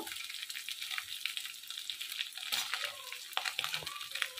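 Radhuni seeds and bay leaves fry in hot oil with a steady bright crackle and sizzle, punctuated by a few sharper pops and spatters near the end, close and moderately loud with no talking.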